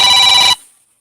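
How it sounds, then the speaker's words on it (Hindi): A telephone rings with a bright electronic tone that holds steady for about half a second, then cuts off abruptly and leaves only a short fading tail. "फोन बज रहा था इस पे बार बार बार बार"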